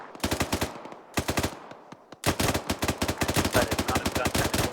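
Rapid bursts of automatic gunfire crack in a tactical military video game, loud and close, in clustered volleys separated by short pauses.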